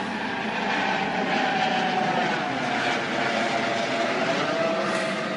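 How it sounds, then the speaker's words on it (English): A helicopter passes over a vegetable garden during a green bean harvest. Its engine makes a loud, steady, broadband roar that fills the whole stretch, and no one speaks over it. "Just a helicopter passing by."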